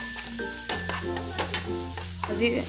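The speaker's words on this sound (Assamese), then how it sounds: "মই অকণমান সময় ভাজি ল'ম এনেকৈ" Ground cumin and turmeric fry in a pan for aloo paratha, a steady close sizzle with repeated scraping stirs of a spatula.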